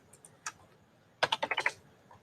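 Typing on a computer keyboard while entering sodium statistics into a stats program: a few isolated keystrokes, then a quick burst of six or so close, crisp clicks, nearby with no talking.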